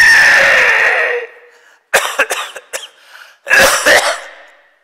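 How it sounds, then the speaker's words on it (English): Coughing during a breathing exercise for weak lungs, done by an older adult: a long, breathy rasping exhale comes first, then two close, loud bursts of harsh coughs after a short silence. "Every time you do this, you will cough."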